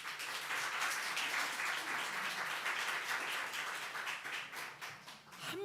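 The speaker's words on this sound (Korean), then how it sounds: "우리 박수합시다." A church congregation breaks into sustained applause, many hands clapping together in a dense, steady wash that stays even for several seconds before thinning slightly at the end, heard from a distance.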